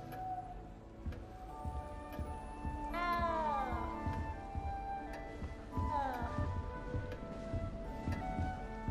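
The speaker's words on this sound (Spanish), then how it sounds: "Maldito gato y su manía de ponerse debajo de los sofás" A cat in the castle of the video game Hogwarts Legacy gives two clear, drawn-out meows a few seconds apart over quiet game ambience and faint ticking.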